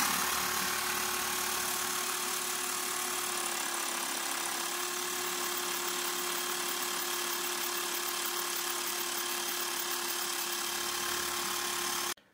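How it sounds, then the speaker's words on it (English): A budget portable air compressor runs a DIY steam engine, giving a loud, steady mechanical drone with rattling vibration for about twelve seconds before cutting off abruptly. "But I'll turn the compressor on and we'll see what pressure it runs on."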